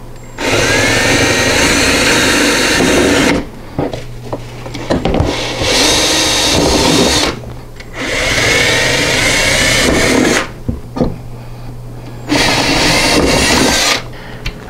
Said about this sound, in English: what we're going to do is drill holes in there for the mounting screws